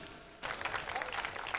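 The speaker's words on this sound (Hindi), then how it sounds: "जोरदार तालियां बजा दिए राणा राजस्थानी के लिए" An audience at a poetry gathering breaks into loud applause for a poet, starting abruptly after a quiet moment and holding as steady, dense clapping.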